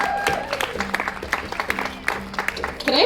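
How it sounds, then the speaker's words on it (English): Audience applause at a political rally on Labor Day weekend, a crowd clapping steadily in scattered sharp bursts, moderately loud, with some background noise and a faint voice underneath. "Can I have one more round of applause for Ann Austin"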